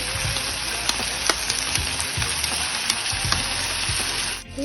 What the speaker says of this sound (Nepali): अघिकै उब्रेको तेलमा चाहिँ अदुवा र लसुन पिसेको हाल्दैछ।